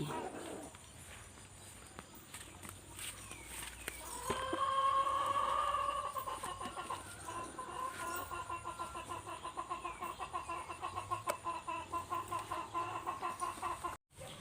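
Chickens cluck and call near and far in a rural outdoor setting, with a prolonged higher call in the middle and a steady rhythmic patter running beneath.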